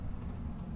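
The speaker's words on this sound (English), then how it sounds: "can hear that car coming up." A car approaching on a country road, a low rumbling engine and tyre noise that stays steady and close over a short moment, with no voices.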